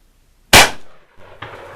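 Single sharp rifle shot from a .303 British Enfield firing reloaded ammunition, close and loud with a quick decaying report, followed by faint metallic handling clicks.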